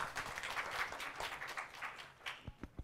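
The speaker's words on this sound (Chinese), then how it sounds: "大家掌声欢迎 Kobe 啊！" Applause from a conference audience at the g0v Summit 2018 community session, a fairly steady patter of many hands at moderate distance that thins toward the end into a few isolated claps.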